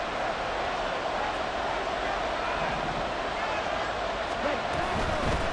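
A stadium crowd in Madden NFL 24 roars in a dense, continuous wash of noise ahead of a big third down, with a commentator talking over it.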